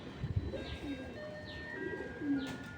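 A racing pigeon of the army knot type, held in hand, gives soft low coos at close range amid faint background noise and some handling sounds.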